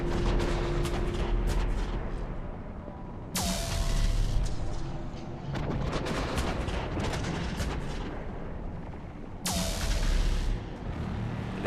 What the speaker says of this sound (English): If you just sit here and watch, they will fire at each other indefinitely without that exploding.